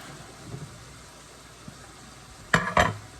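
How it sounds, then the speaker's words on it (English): Ground beef sizzles and steams in a pan as a steady low hiss, with two short louder clatters near the end. "Ooh, and it's sizzling."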